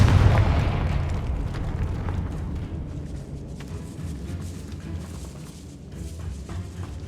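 A Confringo fire spell blast in Hogwarts Legacy, heard as a loud booming burst at the start that decays into a rumbling, crackling tail over several seconds, alone without talk.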